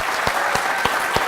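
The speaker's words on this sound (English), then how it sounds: "How about a nice round of applause for them?" Audience applause for presenters at a social entrepreneurship competition, brisk continuous clapping with a few distinct louder claps standing out at regular intervals.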